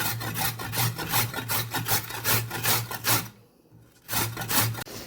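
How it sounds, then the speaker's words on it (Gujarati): Amla, Indian gooseberry, rubbed over the coarse side of a large grater in steady back-and-forth strokes, a close raspy scrape with one brief pause before the strokes resume. "આ મોટા સારવાળી ખમણીની અંદર આપણે ધ્યાનથી ખમણી લેશું આવી રીતે આમળાને"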